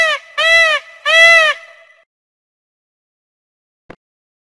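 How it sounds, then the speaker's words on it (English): A peacock gives two loud, nasal, wailing calls in close succession, harmonic and rising then falling, followed by a short tail of fading echo. A faint click comes after a long silence. "Peacock."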